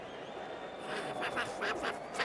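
Cartoon duck quacking dubbed into a 1996 New Year's Day one-day cricket broadcast between Australia and the West Indies at the SCG after a batsman is out for a duck, a short series of nasal quacks over crowd and broadcast background.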